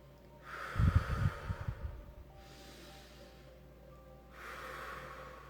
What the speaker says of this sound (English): Taking a few more of these deep breaths.